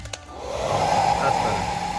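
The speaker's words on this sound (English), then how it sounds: "we're just going to hit it with a heat gun" A heat gun blows hot air onto a brittle plastic connector on a BMW N63TU engine. A brief click comes first, then a steady, close whooshing roar of airflow holds to the end.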